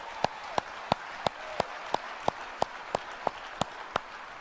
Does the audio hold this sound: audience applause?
yes